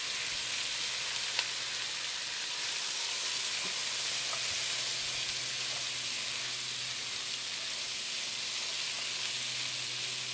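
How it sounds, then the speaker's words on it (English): Mirepoix vegetables sauté in a pot for ossobuco, a veal or beef stew, giving a steady, even sizzle with faint stirring ticks throughout, close and unbroken, with no voices. "everybody's going into the pot. Just want to let them saute for a couple of minutes"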